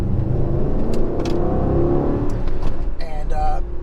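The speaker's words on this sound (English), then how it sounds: "I'm not sure if you guys can hear the AMG Performance exhaust. Sounds amazing." A 2021 Mercedes-AMG GLE 63 S Coupe in Sport Plus mode accelerates at light throttle, its performance exhaust rumbling low and steady from inside the cabin while someone talks over it.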